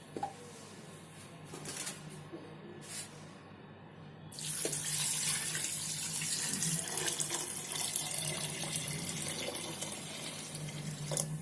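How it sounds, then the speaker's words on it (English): Water pours steadily into a pot while making sambar, starting after a few seconds of quiet kitchen noise and continuing as a constant splashing stream, close by. "And now we'll put the water."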